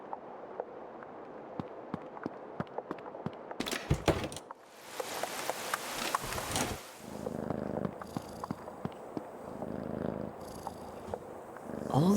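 A cat purrs in the video game Creepy Tale 2, a continuous low rumble under soft mechanical clicks and a brief swell of noise partway through, with no voices.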